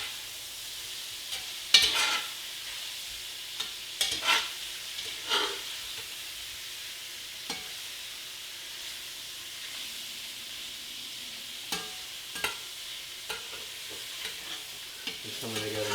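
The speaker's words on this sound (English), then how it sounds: "The sausages will burn, you know, faster than the pork will. You want to just let all of it brown," Sausages and pork browning in a pan for jambalaya give a steady low sizzle and hiss, broken now and then by scattered scrapes and taps of a utensil stirring the meat.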